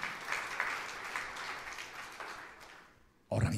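Applause fills a church service, a fairly distant, even wash of clapping that swells and fades before dying away, then a sudden loud thump near the end.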